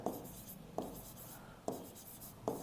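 A pen or marker writes a mathematics formula by hand during a class 12 lesson, giving faint scratchy strokes with four light taps as it meets the surface, over a quiet background.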